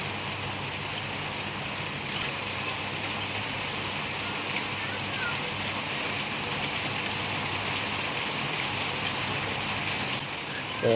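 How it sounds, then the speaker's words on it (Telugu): Heavy rain pours steadily outdoors, a dense, constant hiss of drops drumming on surfaces with no letup. "బయటైతే వాన ఫుల్ వస్తుందండి"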